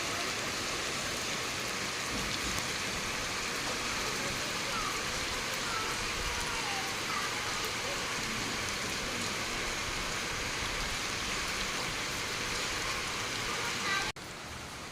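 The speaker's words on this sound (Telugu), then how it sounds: "చూసిల్లు కదా వర్షాలు ఎట్లా పడుతున్నాయి" Heavy rain pours in a dense, unbroken hiss of falling water after an overnight downpour that flooded the area, steady and loud until it cuts off near the end.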